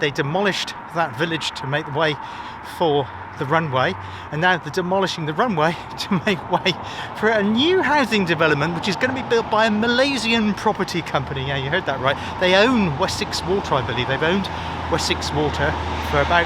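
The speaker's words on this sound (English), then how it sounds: "I do apologise for the traffic noise." Steady road traffic rumbles and swishes past nearby, with vehicles going by throughout while someone talks continuously over it.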